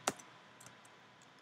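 A Mac computer keyboard gives one sharp keystroke at the start, followed by a few faint, soft clicks in a quiet room.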